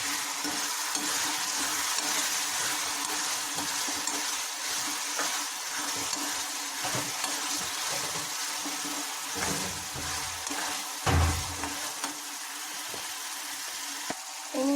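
Chopped tomato fries and is stirred into a paneer curry in a pan, giving a continuous close sizzle with scraping utensil strokes and a heavier thump near the end.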